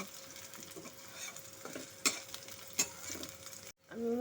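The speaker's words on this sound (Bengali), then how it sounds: "বেগুন রসুন সমস্ত লাল লাল করে ভাজা হয়ে গেছে" Quiet sizzling of eggplant and garlic frying in oil, with a few sharp spatula scrapes and clinks against the pan.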